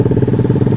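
Yamaha Jupiter MX motorcycle in stock condition, its engine idling with a rapid, even putter and light clatter, close and loud, in a short burst with no voices.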